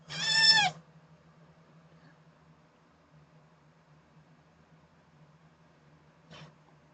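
A cat gives one loud, clear meow at the start, then a faint low hum runs through the quiet, broken near the end by a brief soft noise.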